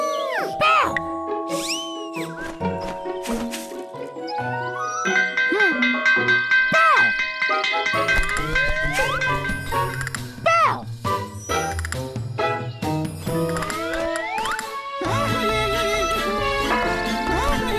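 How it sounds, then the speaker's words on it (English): Bells ring out in a children's cartoon about musical instruments: bright, ringing tones with jingling and clanging layered over music, while voices talk and exclaim throughout. "This is a bell."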